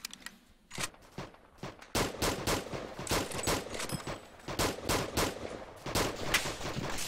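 Rapid bursts of gunfire, loud and close, with overlapping shots and short automatic volleys in a continuous barrage, like combat in a shooter game.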